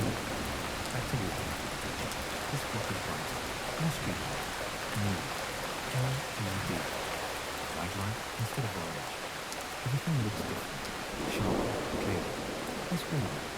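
Steady rain falling at night on a New York City street, a dense even hiss of drops on wet pavement with soft low patter and splashes, continuous and close, with no voices.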